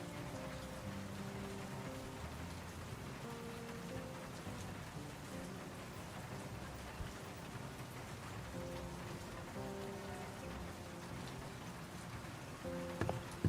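In World of Goo 2, rain beats steadily against an office window, a soft, even hiss of drops that runs throughout beneath quiet, sustained musical tones.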